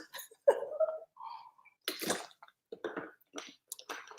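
Someone takes quick sips and gulps of water near the microphone, with wet swallowing and mouth sounds followed by scattered breathy noises in an otherwise quiet room.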